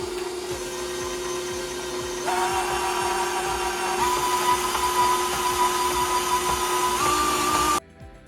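A stand mixer whirs steadily while beating cake batter that still looks like dough. It starts low, steps up in pitch twice toward medium speed, then stops abruptly near the end.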